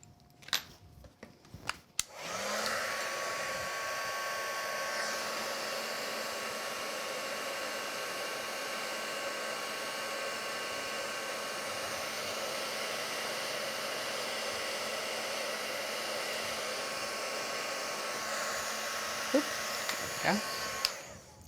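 Heat tool warming a craft project, a few clicks and bumps, then a loud, steady whooshing blower hum that runs for about twenty seconds before cutting off.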